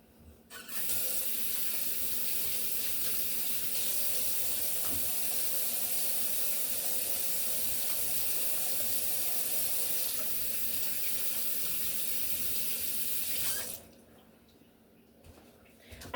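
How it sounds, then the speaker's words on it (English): A kitchen tap runs in a steady, loud, close stream for about thirteen seconds while hands are washed, then shuts off to quiet, with no talk. "But first, I'm going to wash my hands"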